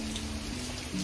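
Steady rain patters outside in the early morning darkness as Hurricane Idalia passes, a brief, even wash of drops with no voices.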